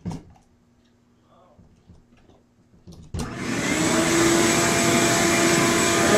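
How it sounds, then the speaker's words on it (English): A vacuum cleaner switches on about halfway through to clean up debris from removing old pool table rail rubber, starting abruptly and then roaring steadily and loudly to the end after a stretch of quiet handling noises. "Let's plug in the vacuum"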